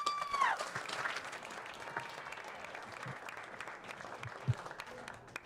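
Applause from a meetup audience for startup founders, a continuous wash of clapping throughout with a brief tonal tone at the start and a few louder claps standing out.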